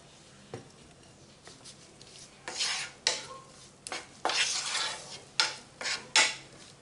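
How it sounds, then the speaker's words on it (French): A stuffed pigeon mixture with shallot simmering in a pot while being stirred, giving a soft bubbling under a series of distinct scraping strokes of a utensil, close and fairly quiet, with no voices. "Je vais la laisser mijoter un petit peu"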